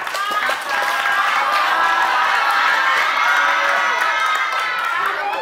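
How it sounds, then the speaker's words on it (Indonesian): A large crowd of students in a school hall claps and cheers continuously, a broad steady roar of applause mixed with shouts lasting the whole stretch. "Tepuk tangan untuk kakak-kakak."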